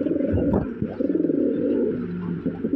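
Large imported Lahori pigeons coo in a low, throaty, steady murmur, several birds overlapping in continuous rolling calls up close, with no talking.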